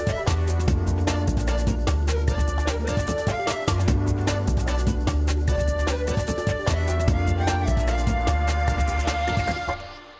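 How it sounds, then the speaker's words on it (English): Full music track with a major-minor synth pad, congas and shaker plays steadily for ten seconds, the percussion pattering rhythmically over sustained pad chords and bass before fading at the end. "we've got congas in and shaker and the whole nine yards"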